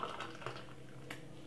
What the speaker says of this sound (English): And pour it in a glass.